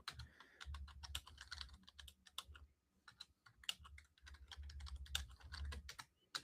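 Quick, uneven clatter of fingers typing on a computer keyboard, close and fairly quiet, bursts of keystrokes separated by a brief pause.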